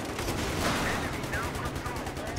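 Gunfire in the multiplayer shooter Battlefield 3 rattles away in quick, repeated bursts, loud and close, with a busy battlefield din underneath and faint voices mixed in.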